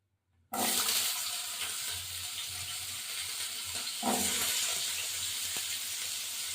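Potato pieces drop into hot oil in a pan and burst into a loud, steady sizzle that starts abruptly, holding strong with a brief surge partway through, close and alone.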